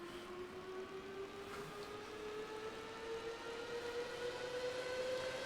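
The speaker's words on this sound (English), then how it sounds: "You wish you were that siren car." A siren car in the NR2003 racing simulator gives off a faint, continuous wail whose pitch slowly rises, steady and unbroken across a few seconds.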